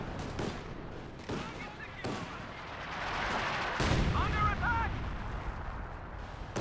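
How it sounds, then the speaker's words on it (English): Howitzer shells pounding a tech structure in a Company of Heroes 2 multiplayer match, several sharp booming blasts spaced through the clip amid dense battle noise. "The howitzer fire is doing quite a lot of damage to this tech structure"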